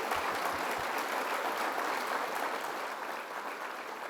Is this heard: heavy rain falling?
no